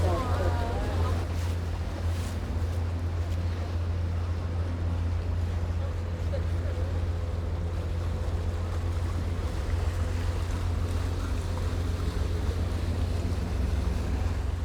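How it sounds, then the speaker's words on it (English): Vaporetto water bus gliding along Venice's Grand Canal in a travel video game, a constant low engine rumble with lapping water and windy hiss, steady and unbroken for the whole stretch. "Take a ride on the Grand Canal by Vaporetto."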